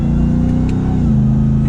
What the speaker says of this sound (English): That supercharger whine is so crazy to hear in a truck